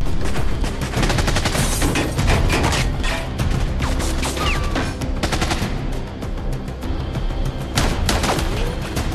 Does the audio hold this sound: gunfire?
yes